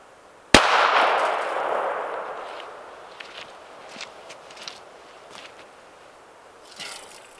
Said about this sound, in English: single shot of the number 12 Magnum at roughly 10-15 feet, aiming right at the middle of the can